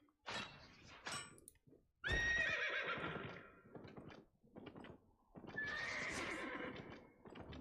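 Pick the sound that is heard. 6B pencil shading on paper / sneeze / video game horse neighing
video game horse neighing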